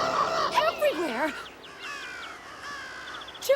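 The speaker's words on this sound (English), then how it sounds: "Birds everywhere." Several cartoon birds squawk and caw in overlapping calls, loud and close, with swooping cries that fill the short scene.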